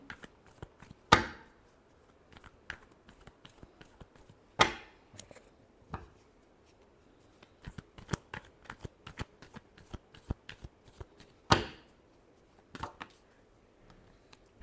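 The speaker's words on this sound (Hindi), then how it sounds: "last shuffle" Tarot cards being shuffled by hand during a card reading: soft, close riffling and shuffling with several sharper slaps and taps at irregular intervals, alone without talk.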